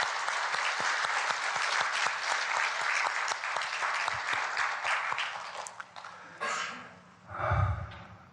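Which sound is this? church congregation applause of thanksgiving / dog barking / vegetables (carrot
church congregation applause of thanksgiving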